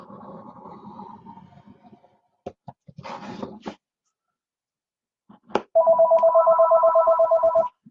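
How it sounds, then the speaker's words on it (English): A telephone rings indoors during card-making at a desk, a loud, rapidly pulsing electronic ringtone that starts partway through, after soft handling and tapping sounds and a short silence. "Of course, the phone rings."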